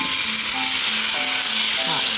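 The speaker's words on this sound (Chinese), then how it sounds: "可以先煎鸡腿" Chicken thighs fry skin-side down in olive oil and butter over low heat, giving a continuous, even sizzle that stays close and steady with faint voices underneath.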